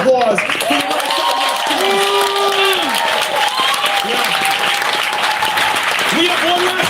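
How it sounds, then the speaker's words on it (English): A town hall audience applauds, with loud, sustained clapping while voices call out and talk over it throughout. "One more round of applause for the rest of"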